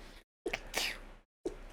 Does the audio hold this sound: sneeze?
yes